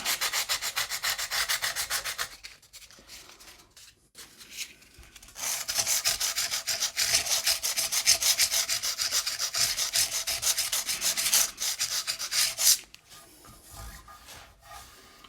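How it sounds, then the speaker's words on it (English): Repeated strokes of abrasive sanding on the fret ends of a Gibson Les Paul Junior guitar, a close, steady rasping that runs in long bursts with brief pauses, starting and stopping between passes. "Now I'm just going to work my way up through the grits, doing the same operation over and over."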